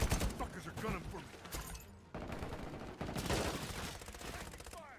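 Rapid bursts of automatic gunfire in the video game Modern Warfare (MW4), with dense crackling shots and mechanical clatter, under a voice speaking at times.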